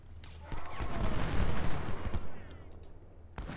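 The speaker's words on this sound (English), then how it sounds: "I want to win this artillery duel first." Cannon fire from an artillery duel in Ultimate General: Civil War builds into a dense, rumbling barrage of booms that peaks midway and fades, with another sharp report near the end.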